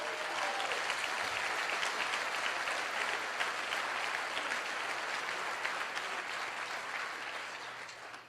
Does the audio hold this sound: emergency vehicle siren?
no